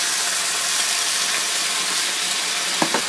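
Potatoes hit a hot frying pan with a loud, steady sizzle and hiss that runs unbroken, with a couple of faint clinks near the end and no talk.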